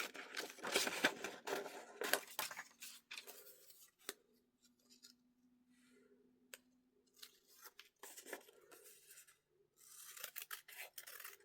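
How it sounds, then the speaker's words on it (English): Scissors trimming out a paper banner for a tiny journal craft project: bursts of crisp close snipping and paper rasping, a quieter pause with faint hum in the middle, then more cutting. "I'll trim out one of these banners really quick."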